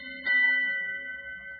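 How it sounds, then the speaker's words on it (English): A ship's bell aboard a vessel in freezing fog rings once, a clear metallic strike that hangs in a long, steady, slowly fading tone in a quiet radio drama scene. "All through the night, the ship's bell aboard the Hero found its echo out in that freezing smother of fog"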